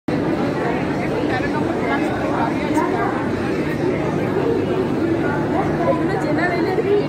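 A general-class queue at a railway station fills with a steady, dense crowd murmur of many overlapping voices, continuous and fairly loud for the whole stretch.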